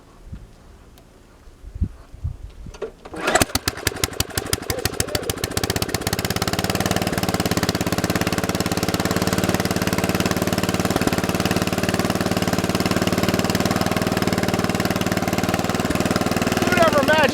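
A John Deere 316 garden tractor engine sputters into life after a few uneven firing pulses, then settles into a steady, loud, close idle that runs without a break.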